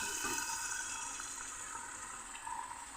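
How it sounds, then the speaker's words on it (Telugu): Chicken-boiled stock poured steadily into a pan of simmering chicken curry, a continuous close liquid splash and gurgle lasting throughout with no talk. "ఇప్పుడు చికెన్ ఉడికించుకున్న వాటర్ కూడా ఇందులో వేసేసి"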